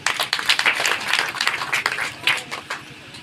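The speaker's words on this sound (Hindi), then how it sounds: "उनके लिए एक ताली बजाइए" Audience at a Buddhist talk claps in response to the speaker, a short burst of scattered, uneven hand claps that thins out toward the end, fairly close with no talking.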